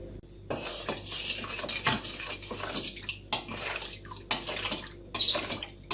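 Pickle ingredients of roasted peppers, salt and vinegar being mixed by hand in a container, with repeated wet clattering, scraping and sloshing strokes in an irregular rhythm, close and fairly loud, with no talking.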